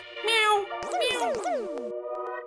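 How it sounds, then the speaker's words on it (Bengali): A cat meows several times in quick succession, close by: a drawn-out cry followed by a few shorter, rising-and-falling mews. "বিড়াল এলো নাকি?"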